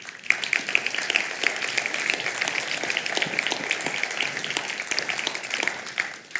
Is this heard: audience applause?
yes